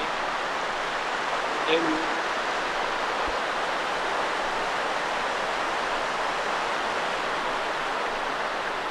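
Steady broadband rush of the Pliva river flowing in Bosnia, a constant close wash of water filling the whole span with no pauses and one brief faint voice near the start.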